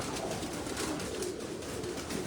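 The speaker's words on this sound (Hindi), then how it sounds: "कबूतर देखो यूएई का कबूतर" Pigeons coo on a rooftop, including a prized UAE pigeon, their soft repeated calls blending into a loud, rough background hiss that fills the whole moment.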